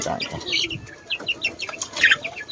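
Indio Gigante chickens cluck and chirp close by in short, irregular bursts, with some wing flapping mixed in and a faint murmur of talk in the background.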